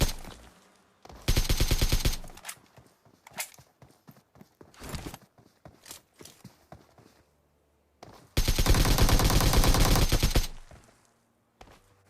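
Automatic gunfire in PUBG: two long, loud sustained bursts separated by scattered single shots and quieter pauses, heard alone without talk.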